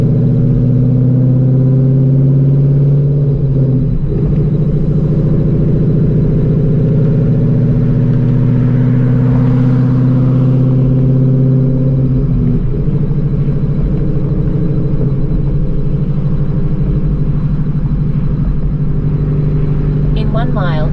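Steady ringing whine from the engine pulley of an 800 hp Shelby GT350 in cold weather, a sustained tonal drone over low engine rumble while driving, continuous throughout with a brief shift near the end; a voice speaks over it.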